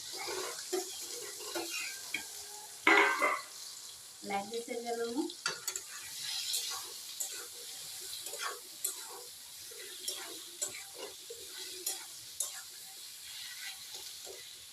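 Taro stems go into a pan of frying tomatoes tempered with five-spice, giving a soft crackling sizzle and spatula scrapes. A voice speaks briefly over the cooking.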